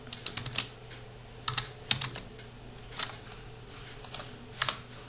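Keys clack on a computer keyboard in short irregular bursts while someone types a surname into a form, the taps close and crisp with brief pauses between runs.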